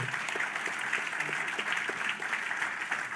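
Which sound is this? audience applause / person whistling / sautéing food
audience applause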